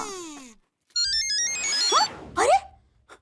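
A phone ringtone plays loud and close, a burst of bright electronic tones and sweeping chirps in short bursts, with no talking.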